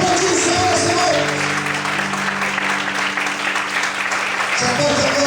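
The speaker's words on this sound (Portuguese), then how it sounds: "Você pode aplaudir o Senhor essa noite?" Loud, continuous clapping from a church congregation at an evening service, filling the room, with held tones sounding beneath it and voices mixed in.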